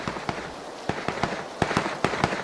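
Gunfire striking the player in the PUBG Battlegrounds video game, with sharp cracks arriving in irregular bursts, some in quick pairs and triplets, loud and close over a steady noisy background.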